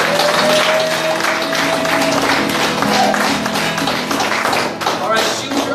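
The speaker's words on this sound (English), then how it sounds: "Let's give God a big round of applause." Church congregation applauding during a worship service, a dense steady wash of clapping from a crowd that fills the room at even loudness throughout, with faint tones and voices underneath.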